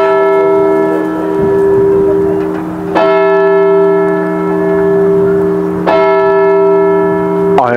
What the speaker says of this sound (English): the bells are about to go off and we were literally in the bell room